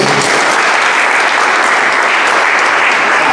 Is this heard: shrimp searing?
no